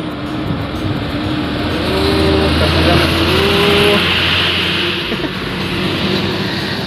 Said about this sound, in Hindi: ट्रक भी एकदम मुश्किल से चढ़ा थे